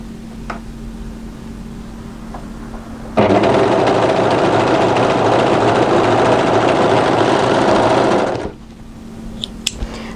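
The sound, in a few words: overlocker running overlock stitching off the fabric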